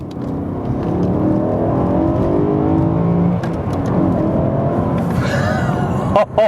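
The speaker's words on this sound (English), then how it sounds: "The absolute powerhouse of a V8 in this is absolutely ridiculous." A BMW E92 M3 with a naturally aspirated V8 accelerates hard, its engine note climbing steadily, loud and close from inside the car, with a sharp shift or blip near the end.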